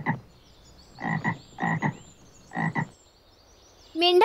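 A frog croaks in several short bursts, mostly in doubled pairs with pauses between them, close and clear, ending with a brief higher-pitched rattling call.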